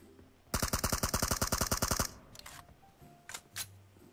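Video game gunfire: a rapid burst of automatic fire lasting about a second and a half, followed by a few scattered fainter shots and clicks, with no talking.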